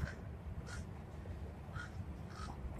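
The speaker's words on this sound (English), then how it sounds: "Even the birds are laughing at me." Crows cawing outdoors, several short harsh caws spaced through the stretch, fairly distant and faint above a low steady background hum.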